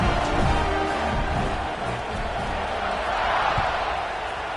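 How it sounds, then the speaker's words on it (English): A football stadium crowd roars around a kickoff, with sustained dense cheering and scattered whoops swelling and easing slightly in a loud, continuous wash. "this crowd is feeling themselves after that last drive"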